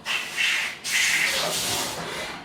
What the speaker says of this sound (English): I'm just getting the shavings off.